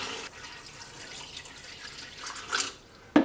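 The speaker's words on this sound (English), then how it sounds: "I'm going to fill this with water" Water pours into a Lomo film developing tank holding Super 8 film reels, a soft continuous splashing trickle ending in a sharp knock.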